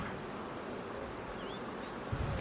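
A swarm of bees leaving a neighbour's hive, a steady dense buzzing drone that fills the air outdoors with no break, a few louder individual bees passing close near the end.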